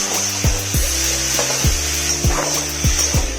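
A rohu fish head fries with salt in a pan under a constant bright sizzle, while a spatula scrapes the pan in a steady rhythm, about two strokes a second, close and loud.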